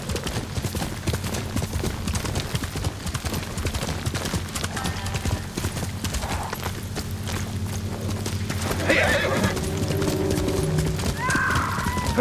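Horse hooves clip-clop at a gallop along a road in the Ghost of Tsushima game, a steady pounding rhythm under orchestral score and ambience, with a whinny near the end.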